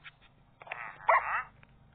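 A dog in the video game Minecraft gives a few quick barks, moderately loud and close, with no voices over them.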